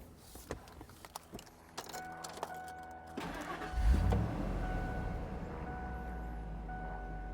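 A 1999 Ford Lightning SVT truck engine starts after quiet clicks and a faint chime, cranking briefly and catching into a low, steady idle rumble at moderate volume, with no voices.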